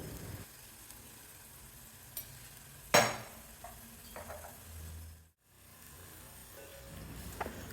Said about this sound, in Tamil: பொடியெல்லாம் எண்ணெயோடு சேர்த்து ஒரு 30-40 செகண்ட்ஸ் வதக்கினா போதும்.